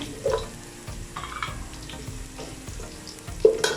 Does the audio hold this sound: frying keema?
yes